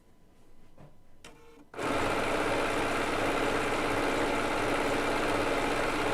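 After a few soft handling clicks, a Bernina B990 sewing machine starts up and runs continuously at speed, stitching decorative stitches on quilt binding, a steady close motor hum with fast rhythmic needle strokes and no talking.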